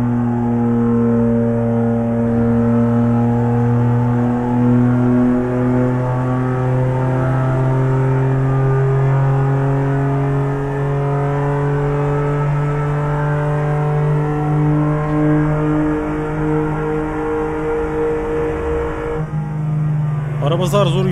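BMW car engine in Euro Truck Simulator 2, a steady droning hum with strong low harmonics held at high speed for the whole stretch, loud and continuous, with a brief rattle near the end.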